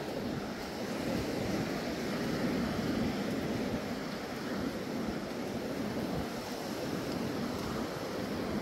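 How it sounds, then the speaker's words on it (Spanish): Ocean waves break continuously on Arroyo Seco beach near Mar del Plata, a steady loud roar of surf with wind buffeting the microphone, no voices. "vamos a ver si las olas nos dejan pasar"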